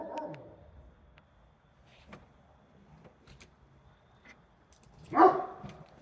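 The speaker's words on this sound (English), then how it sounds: "My dog's outside with me." Max, a dog outdoors, lets out a few scattered barks with quieter sounds in between, then one louder, sharper bark near the end, heard from nearby in an otherwise quiet outdoor setting.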